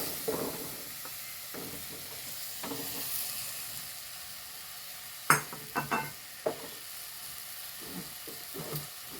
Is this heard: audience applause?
no